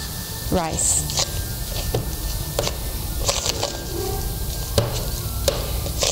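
Bread dough of yeast, water and salt being mixed by hand: steady wet squishing and stirring with occasional soft clicks, close and continuous beneath a person talking.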